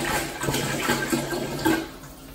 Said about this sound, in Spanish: Déjame echar el agua de una vez.